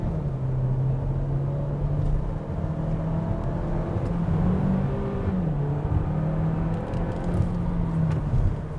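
A Hyundai Kona with a 1.6 turbo gasoline engine accelerates in sport mode, its engine tone rising and shifting over steady road and tyre rumble heard from inside the car.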